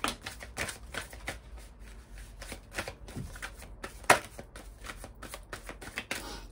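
Twin flames oracle cards are shuffled by hand in a steady run of soft riffling flutters and slaps, close and quiet, with no talking.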